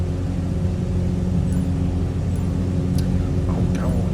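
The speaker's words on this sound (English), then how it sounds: "Takeoff power is set." Aircraft engine at takeoff power in Microsoft Flight Simulator, a steady loud droning roar with a low rumble that holds throughout, with faint brief high tones near the end.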